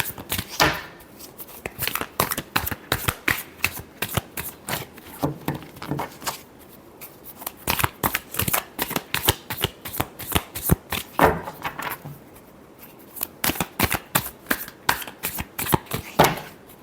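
Tarot cards shuffled by hand in rapid riffling bursts, a dense run of crisp papery flutters with short pauses between rounds, close and clear with no talk over it.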